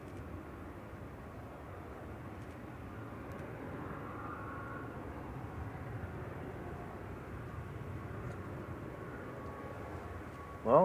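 A Boeing 777 airliner at Manchester Airport gives a distant, steady low jet-engine roar that holds evenly for the whole stretch, with no voices over it.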